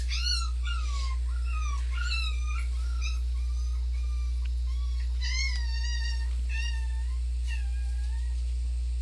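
Several puppies whine and yelp in high, wavering cries, coming in repeated bursts over a constant low electrical hum, with no talking.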